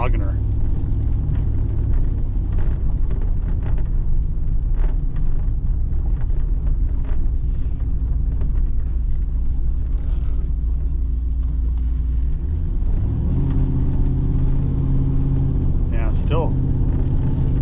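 A Pontiac Grand Prix engine drones low and steady in overdrive, a heavy bogging rumble running throughout with a pitch shift near the end, while people talk over it.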